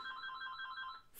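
A telephone rings in Danganronpa: Ultra Despair Girls, a faint electronic trill pulsing rapidly for about a second before cutting off into a brief burst of noise.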